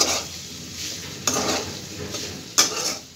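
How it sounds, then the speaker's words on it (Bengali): Oil sizzles steadily in a pan while tripe is stirred as it fries, with two sharp scraping clinks of a utensil against the metal. "তো এটা আমি ভাজবো, এখন শুধু ভাজাই হবে, তেলের উপর ভাজবো"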